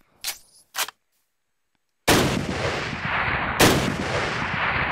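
Sniper rifle fire in Minecraft with Flan's mod, two short clicks, a silent pause, then two loud booming shots with long rumbling tails that fill the rest, no talking.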